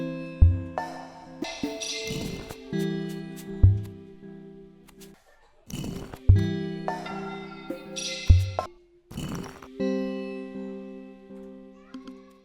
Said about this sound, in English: I created these mystical noises to accompany the sounds of shifting stones when the checkpoint is activated.